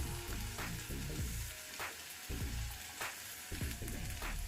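Gongura leaves fry in a pan with salt and chili, a steady close sizzle broken by regular rhythmic scrapes of stirring, with no voices.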